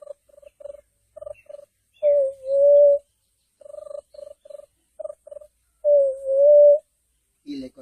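An elderly man imitates the call of a white-winged dove with his voice. He gives short, repeated cooing notes and then two longer rolling coos, with clear pauses between phrases.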